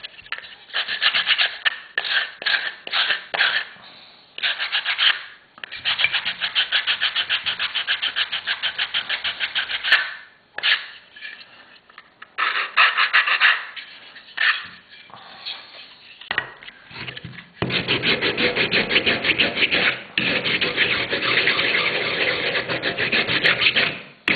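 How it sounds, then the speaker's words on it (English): Something is sanded by hand: loud, close, rhythmic rasping strokes come in bursts separated by short pauses, ending in a long fast run of scrubbing, with no talking. "Nothing like watching somebody sand something, is there?"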